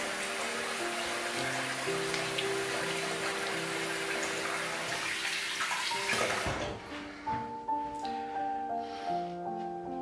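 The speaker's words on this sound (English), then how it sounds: "let's rinse that off" Tap water runs steadily while shaving soap is rinsed off the face after a wet shave, a loud broad wash that thins out after about six seconds, leaving quieter trickling and splashing.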